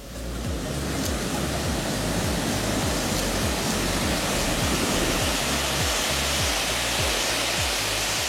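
Ocean surf on a Nicaraguan beach gives a dense, continuous roar of breaking water, loud and close, with no voices.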